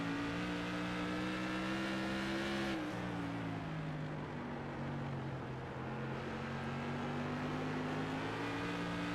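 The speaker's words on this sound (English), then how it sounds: "Pete Polini's onboard camera" Race car engine heard from an onboard camera during a charity race, a steady loud drone with harmonic tones that dip once as the throttle eases, then climb gradually, with continuous road and wind noise underneath.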